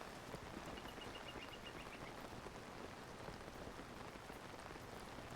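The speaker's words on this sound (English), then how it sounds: "It's raining again." Steady rain falls in the video game Tears of the Kingdom, an even, dense hiss of drops on surfaces that holds constant throughout with no voices.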